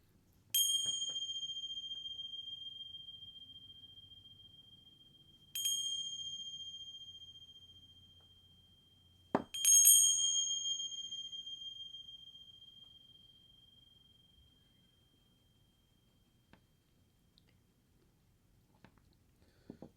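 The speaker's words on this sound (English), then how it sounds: "So on the first bell ring" A bell struck three times, ringing out clear and close during a dragon's blood incense ritual, each strike leaving a long, slowly fading tone, with the third coming just after a sharp knock; quiet follows.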